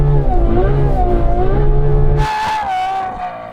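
A Ferrari roars hard away from a drag race start, its engine note loud and close, then dropping off sharply to a lower, rougher drone as it pulls away.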